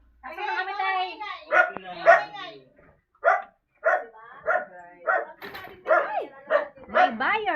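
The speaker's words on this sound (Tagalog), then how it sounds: "Ayan ang mga aso niya." Several dogs at a house bark in short repeated bursts, fairly close and loud, with some yips and whimpers mixed in, while people talk over them.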